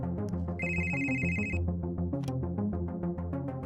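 A phone rings with a repeated electronic ringtone over a steady music track in a dubbed Hindi romantic movie scene. The ringing runs for about a second before cutting off while the music continues.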